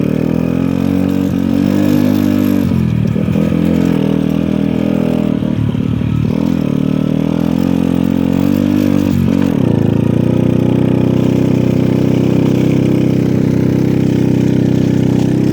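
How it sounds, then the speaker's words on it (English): A dirt bike rides along a backyard trail with a loud, close, steady engine drone that dips briefly a few times as the throttle changes, then holds constant. "I might be able to take you through one of the dirt bike trails"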